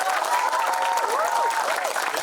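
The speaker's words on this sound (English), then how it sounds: "This deserves a big applause" An audience at a film screening claps steadily at moderate volume, with a faint tonal voice or sound weaving over the applause.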